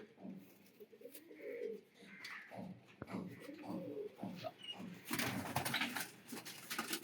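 Pigeons coo softly in a loft, low muffled calls repeating under scattered voices and rustling, with a sharp clatter near the end.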